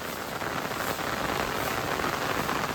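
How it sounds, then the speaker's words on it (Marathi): Steady, close rain falls outdoors in the Konkan countryside, a dense and even patter with no pauses. "तर आता इकडे पावसानं पण हजेरी लावला"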